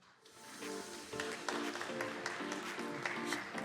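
Audience applause greets presenters at a corporate security conference, rising from quiet into moderate, steady clapping that fills the room.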